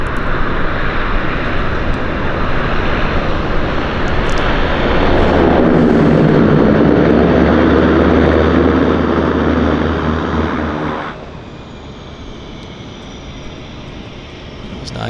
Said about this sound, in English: Water landing time.